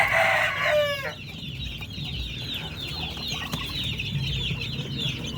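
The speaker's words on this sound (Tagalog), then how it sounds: "lakas kumain mga Sisiw natin dito sa may kabilang kulungan" Chicks in a coop peck at wheat feed, with a loud fowl call at the start followed by a continuous chorus of nearby peeping and soft clucking.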